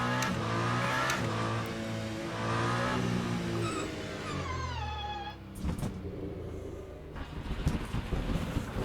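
Race car engine in the video game Le Mans Ultimate roars loudly and continuously, pitch sweeping up and down through gear changes and revs, with brief rough crackles as it drops off and builds again.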